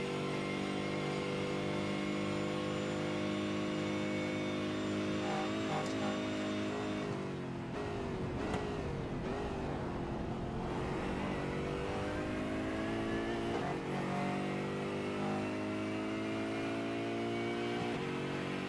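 BMW and Aston Martin race cars roar along a long straightaway heading down a mountain, with continuous loud engine drone and shifting revs, and a swell and dip in pitch midway as they pull apart.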